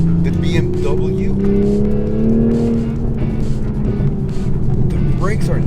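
A 2020 Toyota Supra MK5 engine pulls hard under acceleration, its rising drone steadily climbing in pitch inside the cabin, loud and continuous while someone talks over it.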